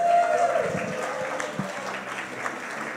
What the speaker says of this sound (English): please clap or say one